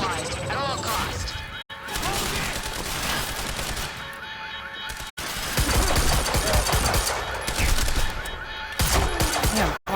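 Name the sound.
gunshots from the video game Quantum Break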